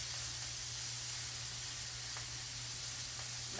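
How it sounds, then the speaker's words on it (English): Liver and onions fry in bacon grease in a pan, giving a steady, even sizzle with a faint low hum beneath and a few soft crackles, with no voices. "Just let that fry until your onions get done."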